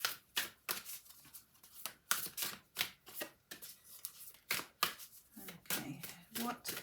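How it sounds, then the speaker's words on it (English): Oracle cards being shuffled in a series of quick, crisp riffling bursts, about a dozen in a steady rhythm, close and clear, with a voice briefly speaking near the end. "while I'm shuffling the cards"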